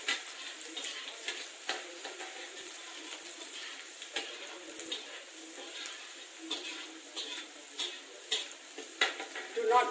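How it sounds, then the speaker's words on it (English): Garlic sizzling in a hot pan for vegetarian fried rice while a utensil stirs and scrapes, with soft steady frying and scattered clinks throughout. "In goes the garlic. Keep stirring. Stir for a minute."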